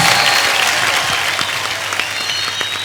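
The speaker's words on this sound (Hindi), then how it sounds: "जोरदार तालियां।" Sustained audience clapping greets Arbaaz Khan and Sohail Khan on a comedy talk show, loud and steady at first, then easing slightly with scattered sharp claps.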